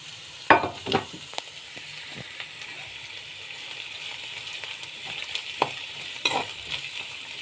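Peanuts and curry leaves fry in oil in a pan for poha upma, a steady soft sizzle with a few sharp crackles and spoon-stirring scrapes, close and with no talk.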